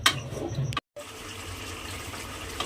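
Water pours steadily into a cooking pot holding potatoes and fish head, a soft continuous splashing stream with a brief cut near the start, fairly quiet and without talk.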